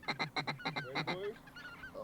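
Geese honking in a rapid run of loud, close calls during a duck and goose hunt opener in Canada, the honks fading to scattered fainter calls toward the end.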